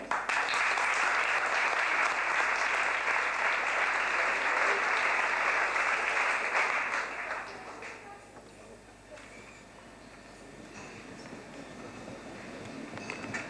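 A crowd at a Decathlon store inauguration in Mâcon applauds a 12-year-old drawing contest winner, loud dense clapping for about seven seconds that then fades into a quieter room murmur.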